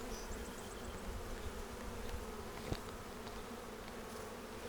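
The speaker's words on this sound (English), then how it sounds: "So that's a lot of bees." Bees buzz steadily in a hive, a dense continuous drone heard up close with a faint tick midway.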